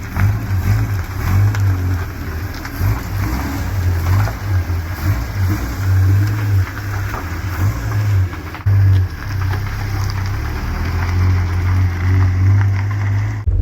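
A 1949 Studebaker Champion rolls along with badly dragging brakes, its engine droning loud and close in a steady, low throb with a brief dip midway and no voices over it.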